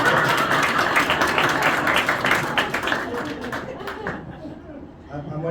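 Audience clapping at a magic show in Nashville, steady dense applause filling the room for several seconds before tapering off, with some crowd voices mixed in.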